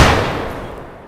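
A single loud, close gunshot from a weapon fired in Counter-Strike, a sharp bang followed by a broad rumbling decay lasting about a second.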